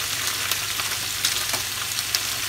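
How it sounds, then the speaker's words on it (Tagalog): Meat with garlic and onion sautés in a pan for Filipino dinuguan, a loud continuous frying hiss broken by scraping stirs and small pops, close and alone without any talk. "Haluin po natin mabuti para lumasa po yung bawang at sibuyas sa karne. Gisa po natin mabuti."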